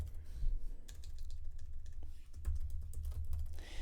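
Quick, irregular clicking keystrokes on a computer keyboard as a full name is entered into a spreadsheet, close and fairly steady for nearly four seconds with no voice.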